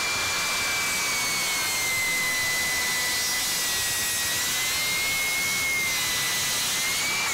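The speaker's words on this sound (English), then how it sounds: "just did a plunge down through some pine" Milwaukee cordless rear-handle circular saw making a plunge cut through pine, its steady, loud motor whine holding for about seven seconds with no voices.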